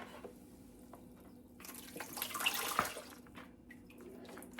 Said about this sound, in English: here's where we're going to drain the curtido